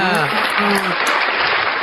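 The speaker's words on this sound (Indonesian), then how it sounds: "Tepuk tangan Pak Yuli, tepuk tangan dulu Pak Yuli, tepuk tangan." A crowd clapping steadily for a couple of seconds, dense and close, with a few voices calling out over the applause.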